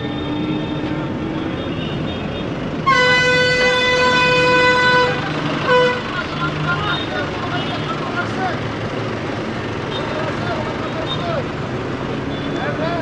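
Busy street traffic in Gangtok, East Sikkim, India, with a long, loud vehicle horn blast of about three seconds over a continuous rumble of engines and a background murmur of crowd noise.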